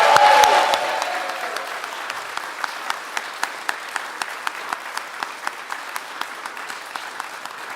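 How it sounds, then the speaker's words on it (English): Applause for award recipients at a health justice awards ceremony in a chapel. A full round fades after the first second into a few scattered, evenly spaced claps. "let's give our 2026 Romero Awardees one more big round of applause"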